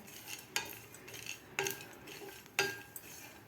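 Dal, coconut and sesame dry roasting in a pan over medium heat, three sharp metallic scrapes of a spatula against the pan over a faint, quiet rustle of the roasting mix.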